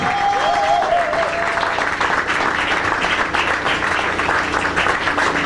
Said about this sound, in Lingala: nous avons vos acclamations.